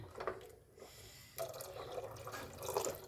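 Water poured into a pot of black chana curry being cooked for gravy, a splashy trickling pour in short bursts, close and moderately loud, with brief pauses between pours.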